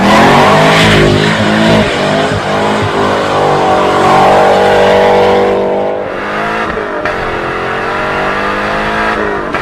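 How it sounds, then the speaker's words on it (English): A C6 Corvette fitted with a Borla exhaust system roars loudly and close throughout, its engine note rising and rumbling with steady revving before easing slightly toward the end. "that sound that I get from the exhaust system"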